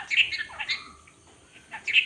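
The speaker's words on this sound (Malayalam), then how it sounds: "എൻ്റെ ലവ് ബേർഡ് ഒരാൾ സംസാരിക്കും" A pet lovebird gives a few short, close squawks and chirps in two clusters, with a brief quiet gap between them.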